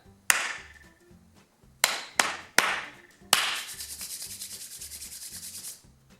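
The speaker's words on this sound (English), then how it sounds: "So let's clap this rhythm." Hands clapping a rhythm over a soft backing beat: a sharp single clap, then a quick pair, another clap, and a run of rapid even claps that fades at the end.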